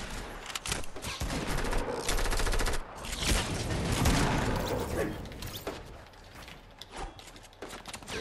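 Dense video game gunfire rattles in rapid close bursts with mechanical clicks between volleys, loud throughout with a brief lull midway.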